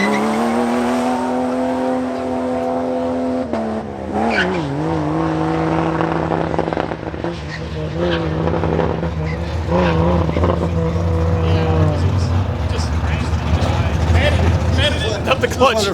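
A race car launches hard down a drag strip, its engine close and loud, revving and climbing in pitch through the run with a brief dip as it shifts, then roaring on steadily to the end.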